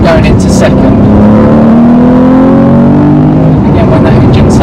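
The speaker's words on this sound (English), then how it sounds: "I'm going to exaggerate the acceleration here just so you can see the engine" A manual car's engine revs hard under deliberately exaggerated acceleration, its rising drone climbing in pitch, dropping as the driver shifts into second gear, then climbing again; loud, close, and continuous from inside the car.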